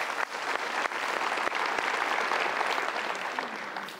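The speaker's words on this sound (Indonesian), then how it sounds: "kita berikan tepuk tangan dulu" Studio audience applause at a motivational seminar, a full, sustained burst of many hands clapping at once that stays steady before easing slightly toward the end.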